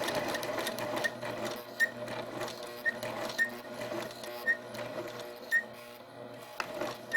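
A sewing machine stitches through patchwork fabric for a placemat, making a steady, close mechanical whir with small regular clicks from the needle. It runs continuously and fairly quietly, with no talk.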